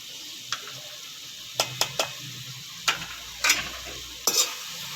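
Okra with achari masala gets stirred in a pan: a string of distinct scraping, clattering spatula strokes at an uneven pace over a faint sizzle, close and fairly quiet, with no talk.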